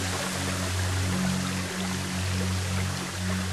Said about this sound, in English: And then waterfall from the top.